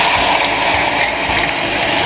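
Crushed tomatoes with sauce and rendered juices poured into a hot pan, giving a loud steady hiss of sizzling that fills the whole moment with no pause.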